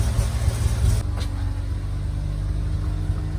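A Rolls-Royce car engine idles and runs while backing out, a loud, close, low rumbling drone that eases slightly after a brief bump and then holds steady.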